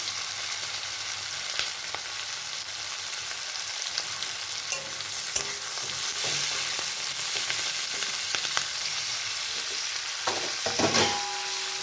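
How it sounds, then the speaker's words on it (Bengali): Capsicum and onion fry in a pan for chilli cauliflower, a steady close sizzle with scattered clinks and scrapes of stirring throughout, no voices. "তো ক্যাপসিকাম আর পেঁয়াজ একটু ভাজা হয়ে গেছে।"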